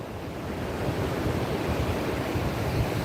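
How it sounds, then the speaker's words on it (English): Strong wind buffets the microphone while ocean surf rolls onto an Atlantic beach during shark fishing, a loud continuous roar of waves and gusts with no talk. "It's so windy out."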